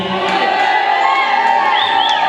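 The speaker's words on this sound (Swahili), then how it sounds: "Hapo nisikie kelele ya pande hii peke yake." A church congregation at an apostle's ministry service shouts loudly together on request, a sustained crowd roar with cheering and whoops that fills the room evenly for a couple of seconds.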